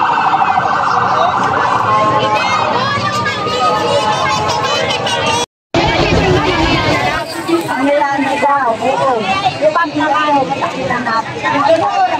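A wailing ambulance siren cuts through a noisy crowd at a cemetery, rising and falling under steady chatter and nearby voices, briefly dropping out midway before continuing.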